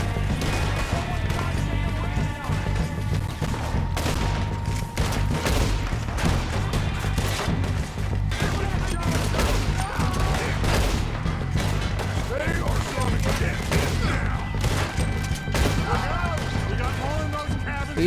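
Rapid gunfire from the video game Red Dead Redemption 2, with repeated shots and volleys over a continuous music bed, while someone talks throughout.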